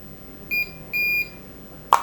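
A SJRC F11 4K Pro drone controller gives two short, clear electronic beeps during a reset, the second held longer, followed by a sharp click, all close and otherwise quiet.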